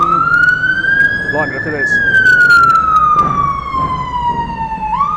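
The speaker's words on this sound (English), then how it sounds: "Oh dear, big fire engine coming up the road now." A big fire engine's wailing siren sweeps up and down as it comes up a London road and passes close by, loud and continuous over traffic rumble, while someone talks over it.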